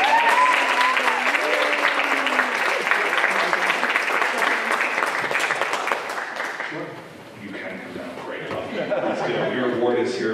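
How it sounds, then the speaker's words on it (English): An audience at a diversity, equity and inclusion awards ceremony breaks into sustained applause for an award recipient. The clapping is loud and even, then thins out as voices and chuckles take over near the end. "Can you give a round of applause?"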